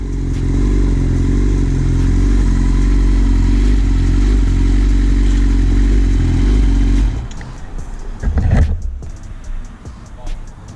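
A motorcycle riding toward an MOT test centre, a loud steady engine drone for about seven seconds, then dropping away to quieter rumbles and clatter.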